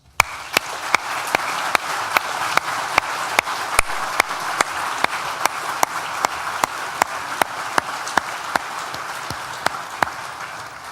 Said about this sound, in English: please join me once again with a big collective round of applause